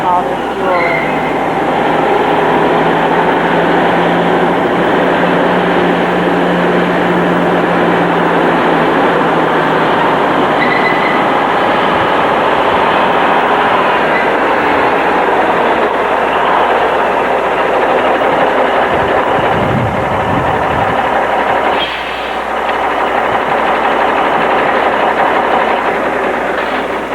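A fuel transport truck with trailers driving out, a long, loud continuous engine rumble and rolling clatter close by, with brief louder knocks and shifts near the end.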